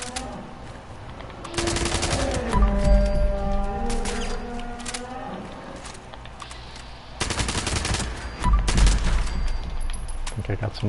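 Automatic gunfire in the game Fallout 76 comes in two long rapid bursts of shots, loud and close, with game music and effects ringing beneath the volleys.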